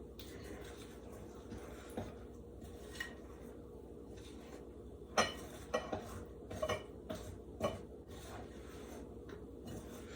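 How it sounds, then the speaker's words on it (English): Biscuit dough ingredients are stirred in a bowl with a utensil, giving soft scraping and rubbing with occasional light clinks. The strokes come in an irregular rhythm, close up and fairly quiet. "Now we're just going to mix that up."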